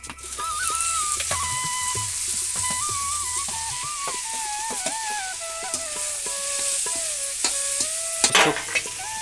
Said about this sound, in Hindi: तेल डाल दिया है इसमें मम्मी ने, थोड़ा सा छौंक बस लगाना है